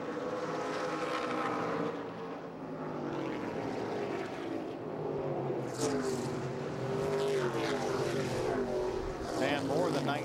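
Super late model stock cars race two and three wide at a NASCAR Toyota All Star Showdown, engines roaring continuously and swelling as packs pass, with a commentator talking over the noise.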